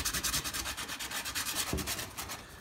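Sandpaper scrubs steadily over an old, mildewed stained wooden award plaque from 1995, a continuous close rasping with rhythmic back-and-forth strokes and no talk.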